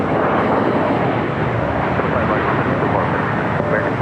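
A heavy jet taking off from runway 25 right at LAX, producing a loud, sustained broadband roar that holds steady throughout the short stretch.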